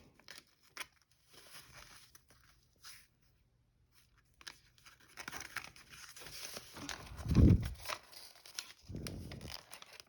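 Paper being folded and creased for a paper fighter jet, with soft, sporadic crinkles and rustles up close and a couple of louder handling thumps near the end.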